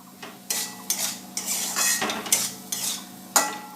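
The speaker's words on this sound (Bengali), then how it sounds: "এবার একটু সুন্দর করে নাড়িয়ে নেব জলটা যতক্ষণ না টেনে যায়" A spoon scrapes and knocks against a pan while bean seed curry is stirred, giving repeated metallic clinks and scrapes in an irregular rhythm over a faint low hum, with no talking.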